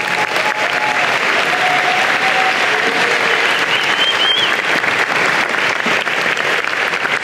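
A large crowd applauds at a university College of Engineering and Computer Science convocation, loud, dense and unbroken clapping that holds steady throughout.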